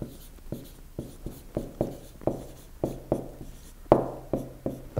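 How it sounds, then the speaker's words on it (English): Marker or chalk strokes on a board while writing out a geometry equation, a dozen short, fairly close taps and squeaks in an irregular rhythm, with no talking. "So let's write that down."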